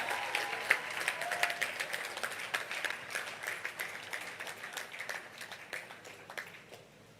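A large audience applauds at a youth debate grand finale in Nigeria. Dense, steady clapping fills the hall for several seconds, then slowly thins and fades toward the end.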